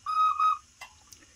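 A model steam locomotive whistle sounds in two short, bright toots, followed by faint mechanical clicks.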